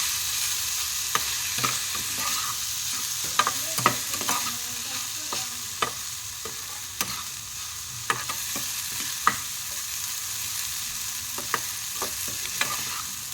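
Taco filling frying in a pan with masala and chili flakes, a steady soft sizzle beneath repeated sharp taps and scrapes of a spoon stirring, close and continuous with no talking.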